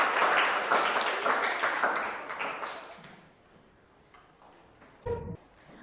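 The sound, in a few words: children applauding in class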